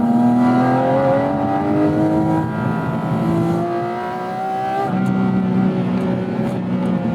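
Porsche 911 GT3 (991.2) or 718 Cayman GT4 RS engine in automatic PDK Sport mode, loudly accelerating with rising revs, a quick upshift, a brief dip, then pulling hard again, close and sustained without talk.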